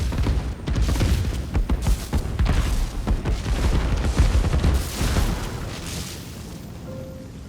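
Rapid, overlapping explosions from the video game Divinity: Original Sin 2 Definitive Edition, a dense rumbling barrage of booms and bursts that stays loud and continuous for several seconds before easing off.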